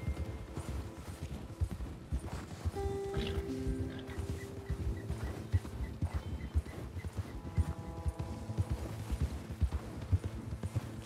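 A black horse walks in a video game, steady clip-clop hoofbeats at a walking rhythm, fairly quiet, with a few tonal game sounds over them.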